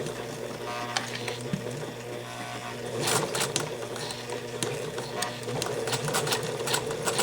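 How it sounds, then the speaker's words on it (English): A sewing machine stitches a 5/8 seam with a steady rapid whirr, then speeds up louder with chattering needle strokes partway through, close by and continuous. "So we're going to sew all the way to the bottom, and then we'll back tack."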